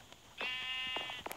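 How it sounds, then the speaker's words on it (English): A pink sheep in the video game Minecraft lets out one drawn-out bleat, steady and fairly close, with faint clicks around it and no speech. "So, Greg, the pink sheep."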